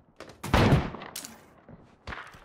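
Gunfire in the zombie survival game State of Decay, a short burst of distant-sounding shots with a heavier blast followed by a couple of quieter pops.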